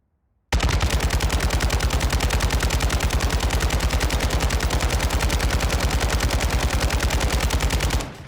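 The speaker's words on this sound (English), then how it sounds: "let's have a look at a meta RPK build and see how the recoil behaves when we don't touch any recoil control at all" An RPK light machine gun in Warzone 2.0 fires one long, unbroken automatic burst of about seven and a half seconds. The shots are loud and rapid and come at an even rate, then stop abruptly.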